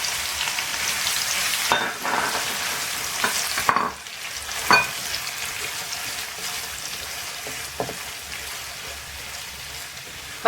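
Sliced onions are added to hot oil in a pan for a Lahori mutton champ karahi and fry with a loud, steady sizzle. Stirring scrapes and clatters cut in a few times, and the hiss stays continuous throughout.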